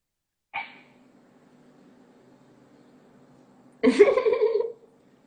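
A miniature pinscher guard dog gives a short sharp bark, then after a quiet stretch with a low indoor hum lets out a louder burst of barking lasting about a second, close to the microphone.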